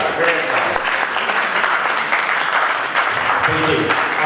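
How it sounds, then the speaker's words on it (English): Audience applause after a presentation, a steady dense clatter of many hands clapping throughout, loud and close, with faint voices mixed in. "may I have a round of applause for such a great guy."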